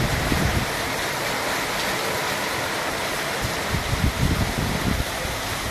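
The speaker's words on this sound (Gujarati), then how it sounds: "ગોવિંદપુરમાં ધોધમાર વરસાદ" Heavy, pouring rain during an unseasonal storm in Govindpur, Gujarat. The downpour makes a dense, steady roar with no breaks, and a few heavier gusts swell it now and then.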